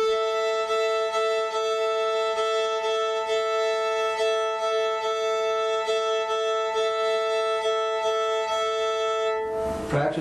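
A fiddle played in a potato rhythm, with short back-and-forth bow strokes sounding two strings together in a steady, even pulse. It is loud and close, continuous and alone, ending with a brief scrape.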